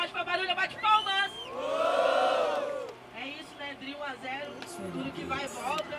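Crowd at a Brazilian rap battle roaring and whooping after the first round, with a loud swelling cheer in the middle and scattered shouts and voices before and after.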